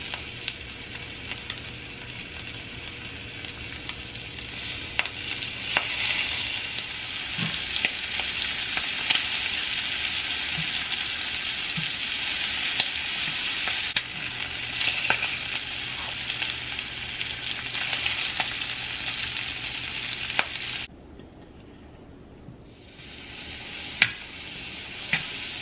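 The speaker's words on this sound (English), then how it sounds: "So I'm going to cook the shrimp for 2 minutes on each side" Shrimp fry in a hot pan with a continuous close sizzle and crackle, occasional pops and light clinks, broken near the end by a brief quiet pause before the frying resumes.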